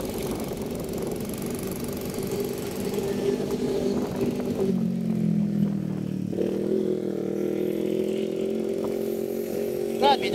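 A motorcycle goes by on a dark road at night, its engine droning steadily at moderate distance, with the pitch shifting as it passes, under faint background noise.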